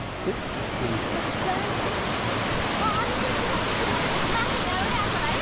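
A Himalayan mountain stream rushes steadily and loudly close by, a dense, unbroken roar of flowing water that stays constant throughout.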